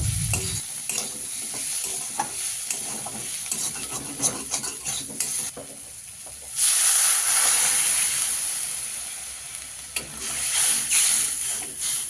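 Greens with potatoes and eggplant frying in spices hiss sharply when water is poured into the pan, the sizzle surging loud and bright after a stretch of stirring and scraping, then settling back into a steady steam hiss.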